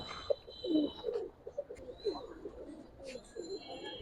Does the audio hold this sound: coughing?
no